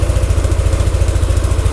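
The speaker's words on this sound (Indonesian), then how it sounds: "Ini suara mesin ya." A motorcycle engine running Meditran S SAE 40 oil idles close by with a steady, rapid, even thumping pulse and no voices.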